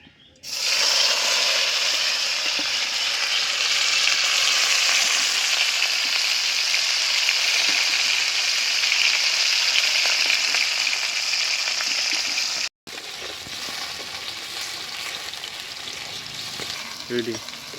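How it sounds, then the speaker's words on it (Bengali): Pieces of paneer sizzle steadily in hot oil, a dense crackling hiss that briefly breaks off, then continues a little softer. "কেটে রাখা পনিরটা এখন আমি ভেজে নেব খিচুড়ির জন্যে।"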